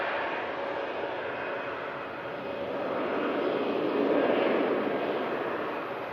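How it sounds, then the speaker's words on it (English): An EasyJet airliner bound for Belfast rolls for takeoff at fog-bound Manchester Airport, its jet engines a steady distant roar that swells gently midway and then eases. "the EasyJet for Belfast on the roll"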